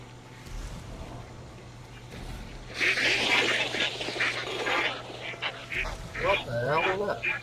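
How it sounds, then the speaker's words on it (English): Ducks quack in a flurry of rapid, overlapping calls inside the video game Hunt: Showdown, loud and close over an ambient game hum, with people talking over the racket. "Weird duck sound everywhere."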